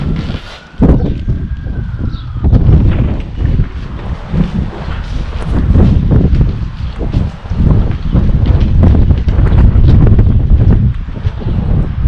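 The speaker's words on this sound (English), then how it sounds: "It's windy" Strong wind blows outdoors around a driveway, buffeting the microphone with loud, continuous rumbling gusts and rustling throughout.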